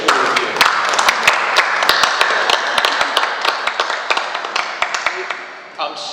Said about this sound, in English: I think we should all applaud you for an excellent set of questions.